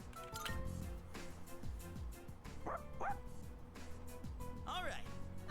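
A dog barks and yips in Persona 3 Reload, several short barks and whimpers spread over a few seconds amid game music and ambience.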